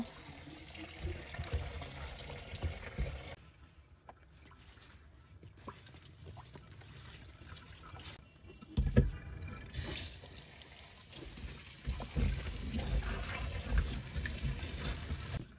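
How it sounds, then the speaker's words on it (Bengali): Running tap water pours and splashes as a slippery fish is rinsed under it, the flow briefly quieting midway before gushing strongly again. "কয়েকবার লবণ দিয়ে হালকা গরম পানি দিয়ে ধুয়ে নিই"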